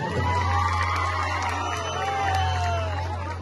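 An audience at an outdoor night show cheers and whoops over a steady loud hum from the sound system, with crowd noise sustained throughout.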